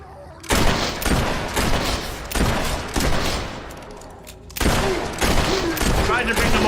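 Repeated volleys of gunfire in the video game Fable III rise and fall in several loud clusters, with rumbling battle noise filling the gaps between them.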